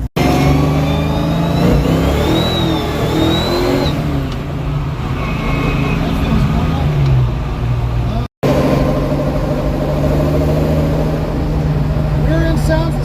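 Car with a rebuilt Ford 8.8 rear end, new bearings and seals, cruising on a highway; loud steady road and drivetrain drone with a rising whine, briefly cut out once, while a person talks over it.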